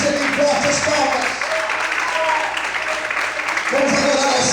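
Loud applause from a church congregation during worship, a dense, steady roar of many hands clapping with voices and a low sustained musical note beneath, continuous from start to finish.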